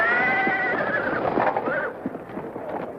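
A racehorse at the starting gate lets out a loud, close whinny that wavers and fades, followed by softer snorting and a few hoof sounds.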